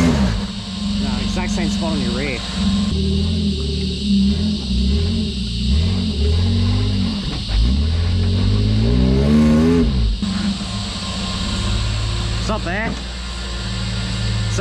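A Jeep crawls slowly along an off-road track at Little Red in the Glasshouse Mountains, its engine rumbling close by with revs rising and falling as it eases over the terrain, while people talk over it.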